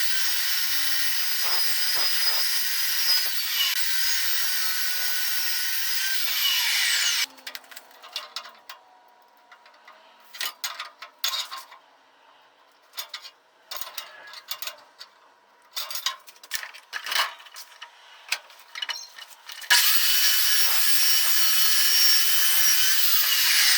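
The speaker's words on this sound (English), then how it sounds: "The great thing about these saws, guys, is that it creates a burr-free cut, no sparks" A metal-cutting saw producing a burr-free cut without sparks, heard as a steady loud whine that drops to irregular clicks and knocks, then returns to the continuous cutting sound.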